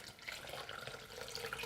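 Boiling water, 1.5 cups, pours into red Jello and gelatin with a quiet, steady trickle and splash that stays soft and continuous from start to finish.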